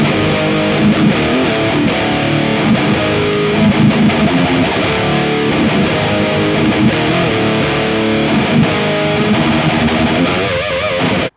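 An electric guitar plays through a Two Notes ReVolt amp simulator pedal boosted by a TS9 overdrive, giving a loud, fuzzy, heavily distorted tone with sustained chords and riffs, continuous and alone until it cuts off at the end.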